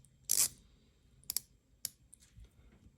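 A Ball Engineer Hydrocarbon Submarine Warfare Ceramic watch bezel is rotated, giving a few sharp, close, quiet clicks spread over a couple of seconds, with a louder burst first and then two shorter ticks.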